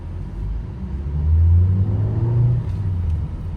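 Maruti Ertiga CNG car with its AC running picks up speed, a steady low engine drone and road rumble swelling in the middle and then holding, heard from inside the cabin.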